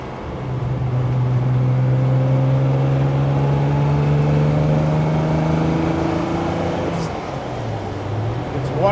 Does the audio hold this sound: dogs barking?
no